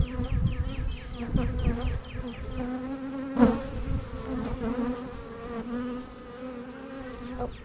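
Honeybees buzz in an opened hive during an inspection, a close, wavering drone of many wings with individual bees swooping in and out, plus a few brief knocks and handling sounds in the middle.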